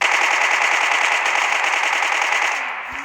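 Rapid, sustained machine gun fire from a military rifle in a video game rattles loudly and continuously for about three seconds before tapering off slightly at the end.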